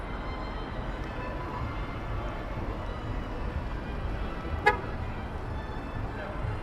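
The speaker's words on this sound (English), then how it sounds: "we got a guy honking at me" A car horn gives one short toot on a downtown Minneapolis street on a Friday night, a brief, fairly close blast standing out above the steady hum of city traffic.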